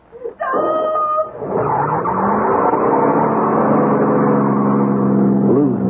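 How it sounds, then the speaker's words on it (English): Loud car engine in an old-time radio drama: a brief sharp burst gives way to a sustained, rising roar as the engine revs hard and pulls away, with a tire-squeal edge near the end. "drowned by the roar of the engine"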